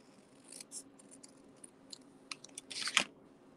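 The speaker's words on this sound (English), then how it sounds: "I'm going to just sort of cut this out." Scissors cut out a paper card in a quiet room. Small irregular snips and crisp crunching cuts build toward one sharp, louder snip near the end.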